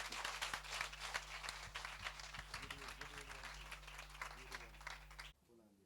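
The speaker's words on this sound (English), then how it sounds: "Please give them a large round of applause." Audience clapping at a school commissioning ceremony for a rural water supply, steady dense applause filling the space for about five seconds, with some voices mixed in, then cutting off abruptly.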